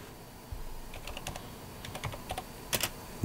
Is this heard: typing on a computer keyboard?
yes